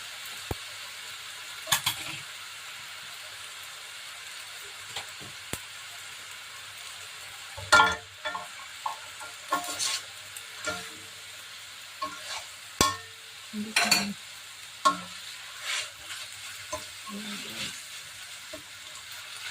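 Boiled pasta tossed and stirred with mushrooms in a pan for mushroom pasta, giving a quiet sizzle with scattered scraping and clattering stir strokes, louder bursts around the middle and end.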